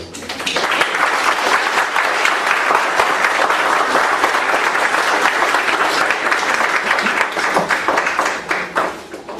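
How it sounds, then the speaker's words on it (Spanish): Sustained applause from a lecture audience after a legal conference talk, dense and loud clapping filling the room for about nine seconds before tapering off at the end. "esos aplausos inmerecidos"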